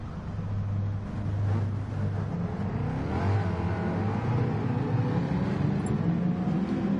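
Race cars in GT Sport, including a Huracan in a GT300 field on a formation lap, with a steady engine drone and a rising rev partway through, continuous and moderately loud with no talking.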